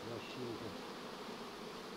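Honey bees buzzing at a hive in an apiery, a steady faint insect drone heard alone with no talk.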